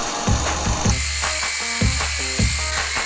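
A power drill works through rivets on a skoolie school bus roof: a loud continuous whine broken by several repeated bursts as the bit bites and the motor pitch shifts, close and without talk.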